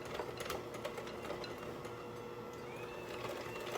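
Two eggs being whisked with salt and sugar in a bowl, a faint, steady rapid clatter of the whisk against the bowl running throughout, no voices.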